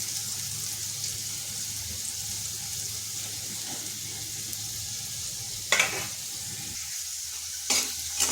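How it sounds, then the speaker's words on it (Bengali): Potato pieces frying in oil in a pan, cooked until reddish, give a steady close sizzle that runs throughout, with two short clattering splash bursts near the end. "আলুটাকে একটু লাল লাল করে ভেজে নেব।"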